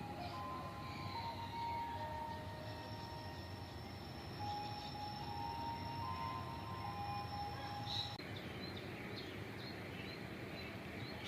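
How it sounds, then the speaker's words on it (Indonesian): The Cikuray passenger train rolls into a station at sunrise, a faint, distant rumble with thin high wheel squeals drawn out over several seconds. "Kereta Cikuray masuk diwarnai sunrise."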